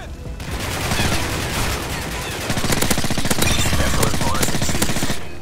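Suppressed MP7 submachine gun with an extended magazine firing in Call of Duty Modern Warfare 3, steady rapid automatic bursts that run nearly continuously and loud, growing denser in the second half.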